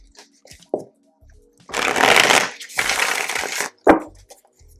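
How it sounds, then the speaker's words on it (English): A tarot card deck is shuffled in several crisp, riffling bursts, close and fairly loud, with short pauses and small handling clicks between them and no talking. "Let me give y'all a few shuffles so y'all can see."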